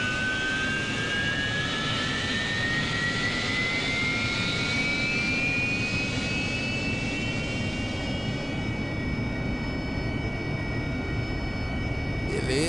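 An AV-8B Harrier jet engine spooling up in the DCS flight simulator during a ramp start: a continuous loud turbine roar with a thin whine that climbs steadily in pitch, then settles.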